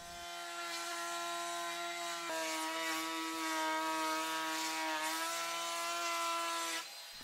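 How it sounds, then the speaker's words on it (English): A small 12 volt cordless router cuts a round-over profile along the edge of a wooden blanket chest panel, a steady high-pitched whine with a harsh cutting rasp, running loud and continuous for about seven seconds before stopping. "put in my little 12 volt router and get that added on"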